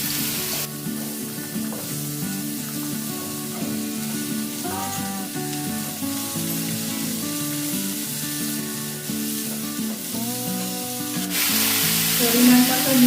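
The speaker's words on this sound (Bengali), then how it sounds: "কড়াইয়ে সরষের তেল দিয়ে দিয়েছি আর একটু পাঁচ ফোড়ন, আর এই সবজিগুলোকে একটু ভেজে নেব" Vegetables frying in mustard oil with panch phoron in a kadai, a loud continuous sizzle and crackle throughout with occasional stirring scrapes, growing more intense near the end, with background music.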